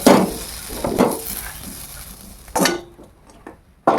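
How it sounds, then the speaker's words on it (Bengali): Jackfruit pieces fried with turmeric in a pan get stirred in scraping bursts, the spoon knocking the pan several times over a low sizzle before the sound drops to near quiet. "দিয়ে দিচ্ছি সামান্য পরিমাণ হলুদ দিয়ে এখন নেড়ে নেব"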